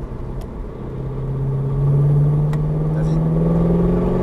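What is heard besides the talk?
Chevrolet Camaro accelerating at full throttle on a track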